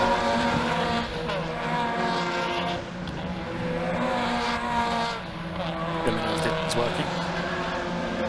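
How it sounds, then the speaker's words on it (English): Race cars at Cadwell Park brake hard into Mansfield corner, with tyres squealing and engines roaring as the cars pass at a moderate distance. Commentary runs over the track noise throughout. "Cars locking up as they stand on the brakes in towards Mansfield."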